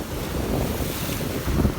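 Sea waves surge onto the shore at Point Pedro, Jaffna, in a continuous loud roar of rushing water with heavy wind buffeting the microphone, and no voices.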